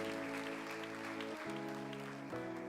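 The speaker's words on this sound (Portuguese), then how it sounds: "Pode aplaudir ao Senhor Jesus, irmãos." A Quadrangular church congregation applauds in praise during a service, clapping along over a sustained organ or keyboard chord that shifts partway through, the sound steady and moderately loud.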